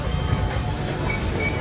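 Walt Disney World Railroad steam train rolling to a stop, a close, continuous low rumble of heavy wheels and cars with a faint metallic hiss over it, steady and loud throughout.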